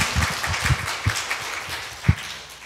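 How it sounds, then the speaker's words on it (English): Scattered applause from a church conference audience, a loose patter of claps with a few louder sharp hits, brief and moderately close, with no talking over it. "Applause, yeah."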